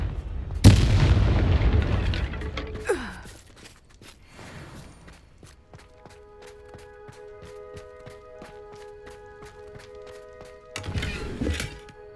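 Confringo fire spell in Hogwarts Legacy: a sudden loud booming blast that rumbles and decays over a couple of seconds, followed by quieter thuds and mechanical ticking, then another heavy burst near the end.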